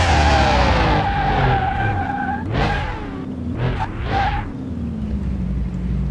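A Jaguar E-Type brakes hard and skids in Car Mechanic Simulator 2021, with an engine revving high and dropping, then a few sharp tire squeals and skidding bursts, close and loud, settling into a low idle.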